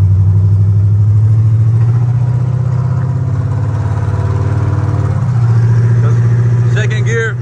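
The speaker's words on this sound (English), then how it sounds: "Let's see if it's going through the gears." A Chevrolet Monte Carlo SS engine runs loud and close, a deep steady drone that dips and changes pitch as it moves through the gears, with a brief clatter near the end.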